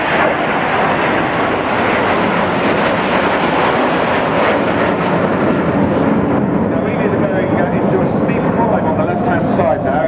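Red Arrows jets fly in formation at an air display, a loud continuous roar of engines filling the whole stretch, with an announcer talking over it.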